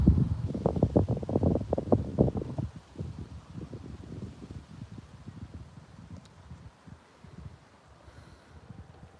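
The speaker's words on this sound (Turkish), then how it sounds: "Vallahi fena rüzgar çıktı ya" Strong wind blowing outdoors, buffeting the microphone in heavy rumbling gusts that are loudest at first, then easing into lighter, irregular flutters.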